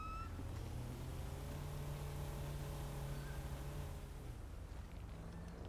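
A video game boat engine drones steadily with a low, constant hum that fades slightly toward the end, running alone without talk.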